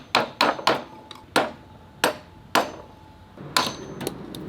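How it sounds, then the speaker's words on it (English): Hammer blows on the carrier bearing collar of a 1996 Nissan D21 Hardbody's driveshaft ring out close and loud, about a dozen sharp metallic strikes in uneven bursts, some quick doubles and some spaced apart, with no talk. "Now we gotta hammer this thing about."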